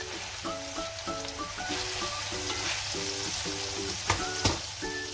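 Lamb kofta frying in a pan, a steady moderate sizzle with a few sharper pops and spits near the end, heard alone without any voices.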